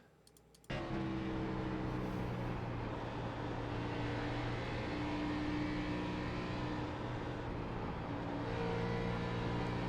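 A race car lapping Darlington Raceway with tire scrub on corner entry and exit: after a brief quiet start the engine cuts in as a loud, steady, droning roar with sustained tonal hum.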